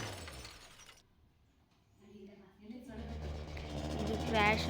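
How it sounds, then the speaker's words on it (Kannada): A scooter crashes in a video game set to manual gears: a short shattering smash, then a lull, then a rising engine hum, with a person talking over the game sound. "ಇದು ಕ್ರ್ಯಾಶ್ ಆಗೋಯ್ತು, ಇದಾಗಲಿಲ್ಲ."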